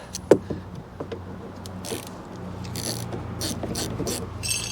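A hand ratchet clicks while turning a 10mm bolt inside a car door, with a sharp initial knock followed by rapid, close pawl clicking in short bursts.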